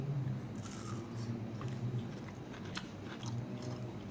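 Crunchy Malaysian pisang goreng, freshly fried banana fritters still warm, bitten and chewed close up with repeated crisp crunches and soft mastication over about four seconds, no talking.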